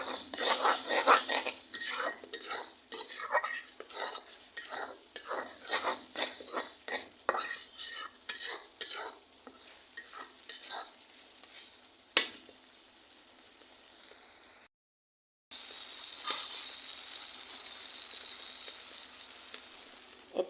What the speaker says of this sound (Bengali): মশলা আর হলো সরিষা ভালো করে আমি কষাইয়া তারপর আমি সিম দিয়ে দেবো।